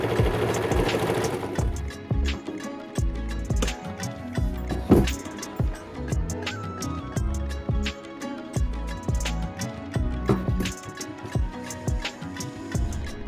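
A sewing machine stitches a cotton dress in rapid mechanical bursts, its clattering needle run starting and stopping in short rhythmic runs, loud and close.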